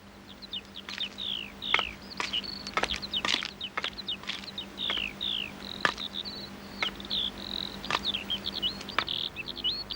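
Birds chirp and tweet in quick irregular bursts as pigeons are released, fairly close but soft, over a steady low hum; no talk.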